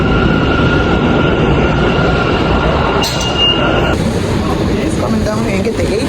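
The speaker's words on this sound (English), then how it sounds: "get the A train at Ryan Park" A New York City A subway train rumbles loudly and steadily, with wheel squeal and rail clatter throughout, a brief change in tone midway and a voice faintly under the noise.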